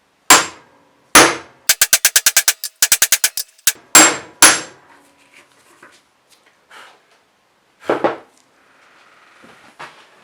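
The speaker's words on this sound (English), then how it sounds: "an impact screwdriver is the easiest way if you're on your own" Sharp metallic hammer blows strike an impact screwdriver on stuck screws of a BMW Bing CV carburettor, single strikes and then quick bursts of rapid taps, before fading to sparse, softer knocks.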